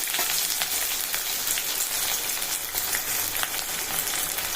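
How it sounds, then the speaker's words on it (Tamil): Small shallots cut lengthwise sauté in hot oil with fennel, cumin and cinnamon for Chettinad mutton chukka, giving a loud, continuous, close sizzle and frying hiss with faint stirring and no voices. "ஒரு கப் அளவுக்கு சின்ன வெங்காயம் நல்லா நீல வாக்கில் கட் பண்ணி போட்டிருக்கிறேன் சேர்த்துக்கிறலாம்"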